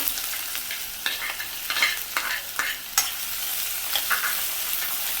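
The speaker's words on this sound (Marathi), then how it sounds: "इथे मी एक ते दीड चमचा तेल गरम करून घेतलेलं आहे आता ह्यामध्ये मी कांदा घालते" Chopped onion frying in about a spoonful of hot oil for a potato filling, a constant bright sizzle punctuated by repeated spatula scrapes and stirring strokes in the pan, close and fairly loud, with no talking.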